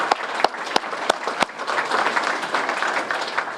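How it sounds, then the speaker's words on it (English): Applause from a Kiwanis club meeting audience, with a few sharp distinct claps up front giving way to a steady, dense wash of clapping that carries on at moderate loudness without talk. "Let's give them all a round of applause."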